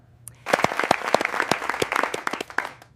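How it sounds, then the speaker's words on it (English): A small group of people claps for a speaker in a room, the applause rising quickly and staying brisk and close for about two seconds before tapering off, with a few voices mixed in. "They are clapping for me."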